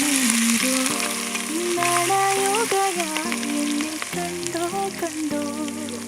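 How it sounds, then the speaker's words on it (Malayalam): Crushed ginger, green chili and garlic frying in oil with fenugreek in a pan, a soft steady sizzle running beneath louder background music. "ഇഞ്ചിയും പച്ചമുളകും വെളുത്തുള്ളിയും നമ്മൾ ഇതിലിട്ട് അത് മൂക്കുന്നവരെ നല്ലോണം ഇളക്കി കൊടുക്കുക"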